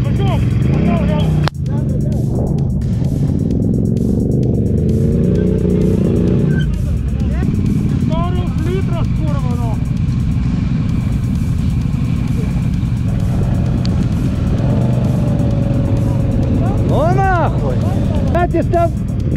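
Quad bike engine revving hard while towing another stuck quad through mud, a steady loud drone with rising and falling revs, crowd chatter and shouting voices over it.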